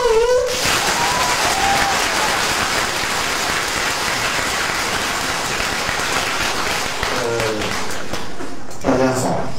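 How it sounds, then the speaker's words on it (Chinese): A lecture-hall audience breaks into loud, sustained applause to welcome a guest speaker at a university culture forum in Beijing, the clapping dense and steady for several seconds with a short voice at the start and near the end. "大家掌声欢迎。"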